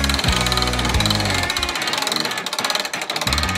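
Electric winch hoisting a roof truss, rated at 1,100 pounds: a loud, continuous mechanical rattling and grinding drone with rapid ratcheting pulses, close and steady throughout, without speech.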